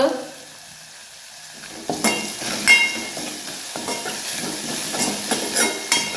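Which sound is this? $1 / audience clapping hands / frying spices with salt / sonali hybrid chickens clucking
frying spices with salt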